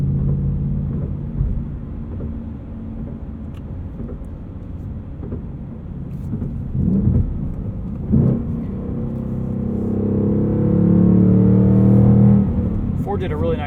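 Road and tire noise from a 2022 Ford Mustang Mach 1 with a manual gearbox and handling package as it rolls from concrete onto asphalt: a steady low rumble and whir, with engine drone swelling toward the end and a few bumps.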